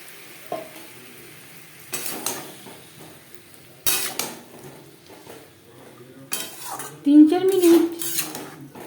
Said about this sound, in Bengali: আলুর সাথে টমেটো বেশ ভালো করে মিক্স করে দেবো